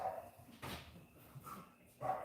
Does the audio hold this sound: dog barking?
yes